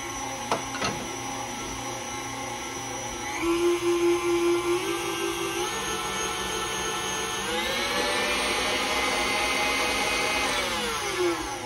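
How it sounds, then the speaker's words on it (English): An electric mixer whirs steadily through pound cake batter, a close, loud motor hum whose pitch shifts up and down as the speed changes, with faint clicks at the start. "Get this all mixed up together."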